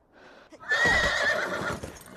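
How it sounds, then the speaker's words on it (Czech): A horse on a ranch in the video game Beyond: Two Souls gives a loud, drawn-out whinny lasting over a second, with light hoof clip-clop and movement sounds around it. "Neposednej kůň."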